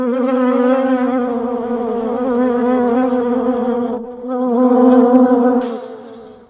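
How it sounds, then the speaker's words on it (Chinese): Bees buzz close and loud in a steady droning hum that dips briefly, swells again, then fades out at the end. "蜜蜂带回了消息，是跟周茂相关的。"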